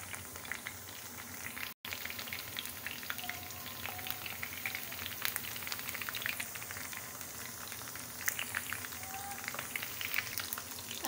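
Chicken pieces fry in hot oil over a flame set a little below medium, giving a quiet, steady bubbling sizzle with scattered small pops and a brief dropout early on.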